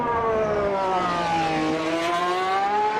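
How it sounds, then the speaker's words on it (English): Honda V12 Formula 1 engine in Automobilista 2 on overrun, a loud, close, raspy harmonic whine that sweeps down and back up over a few seconds with no talk over it. "Oh, the raspiness on the overrun through there as well."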